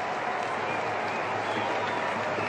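Spectators at a cricket match applaud a boundary shot. The clapping is steady and sustained, spread across the stands and fairly distant, with a commentator's voice faintly underneath.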